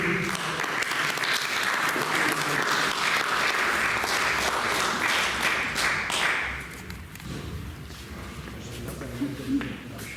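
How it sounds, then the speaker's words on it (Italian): An audience at an Italian poetry evening applauds a poet being called up, dense clapping that fades after about six seconds into scattered claps, shuffling and murmurs. "Un applauso a Antonio Muro"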